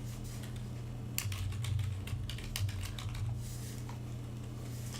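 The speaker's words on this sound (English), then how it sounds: "I'm typing my password wrong today" Someone types a password on a computer keyboard, a close run of quick, irregular key clicks in short bursts over a steady low hum, with no talking.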